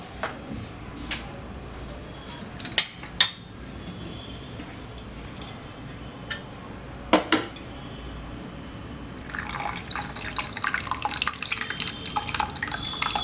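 Homemade grape juice with pulp drips through a kitchen strainer in scattered, irregular drops and soft splats, then turns into a denser, continuous trickle toward the end, with no voices.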